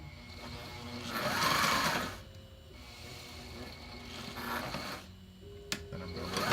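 A sewing machine stitches a fabric battery strap for an FRC robot, running in several bursts of steady mechanical whirring and pausing between them, with a faint click near the end.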